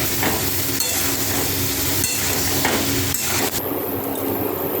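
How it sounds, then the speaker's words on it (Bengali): Vegetables and soaked soybeans stir-fry in a pan, giving a steady, close sizzle broken by occasional taps and scrapes of a utensil, with no talking. "কষিয়ে নেব সবজির সাথে। সয়াবিনগুলোও দিয়ে দেবো এর ভিতরে।"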